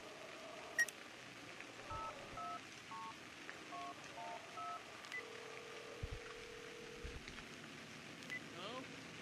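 A phone number is dialed in the horror video game Cry of Fear: a quick string of short, faint keypad tones plays over a low background drone.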